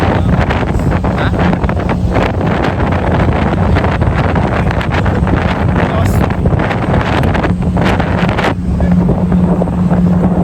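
Strong wind buffets the microphone aboard a boat on the water in New York City, a constant loud roar with engine rumble and waves beneath, continuous from start to finish.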